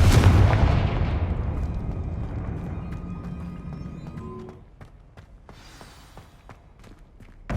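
A Confringo explosive spell in Hogwarts Legacy bursts with a loud, booming blast that rolls off into a long fading rumble, then a few faint clicks and a sharp sound at the very end.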